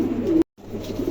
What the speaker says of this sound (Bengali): চমৎকার নতুন নিউ অ্যাডাল কবুতর, দুটোই নতুন নিউ অ্যাডাল, এখনও ডিম দেয়নি।